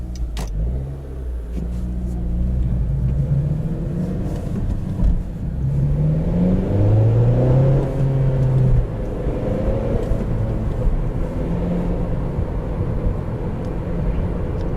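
A 2012 Honda Civic Si four-cylinder engine hums steadily while driving, with rising and falling engine tones and road noise throughout; no voices.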